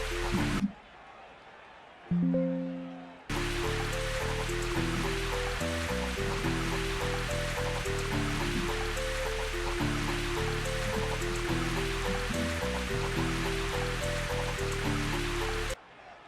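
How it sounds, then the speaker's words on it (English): Steady rain hisses over a golf course in Mario Golf at Toad Highlands, a dense continuous wash broken by a brief drop-out near the start, with soft game music tones underneath. "The rain has died down a little bit here."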